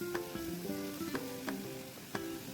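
Two large tomatoes sauté in a pan with a faint, soft sizzle, punctuated by a few sharp clinks and scrapes of a spatula against the metal, close and quiet, with no voices.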